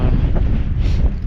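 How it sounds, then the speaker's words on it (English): Wind gusts hard across an open mountain trail, buffeting the microphone with a loud, continuous rushing roar. "it's pretty windy right now"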